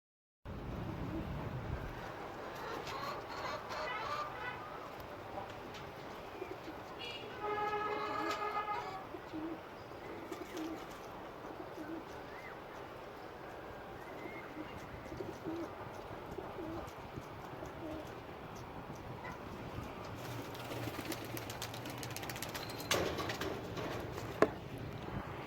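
Pigeons coo softly over a long stretch of outdoor ambience with steady background noise, the calls faint and mixed into the general din rather than close and distinct.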